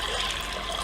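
Steady rushing water filling a pressure cooker holding washed toor and chana dal with turmeric and salt, a continuous close pour with no talking.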